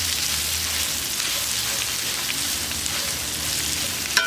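Onions and garlic sizzle and fry steadily on a Weber kettle grill while being stirred, a dense continuous crackle with a faint clink near the end; no talking.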